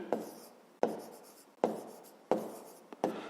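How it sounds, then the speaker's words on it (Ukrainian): Numbers being written by hand during a fifth-grade math exercise, a close series of about five scratchy strokes, each starting with a sharp tap and trailing off, in a quiet room. "Давайте це запишемо."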